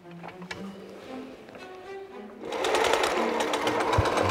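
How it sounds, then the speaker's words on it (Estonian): A sewing machine starts up partway through and runs with a loud, close, steady rapid whirr after a quieter opening with faint background sounds. "Sest et nad ei oska seda õmblusmasina kasutada õigesti."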